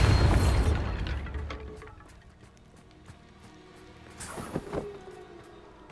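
A Bombarda spell blast in Hogwarts Legacy: a loud, booming explosion at the start that rumbles away, followed by quieter crackling debris and a second smaller burst of impacts.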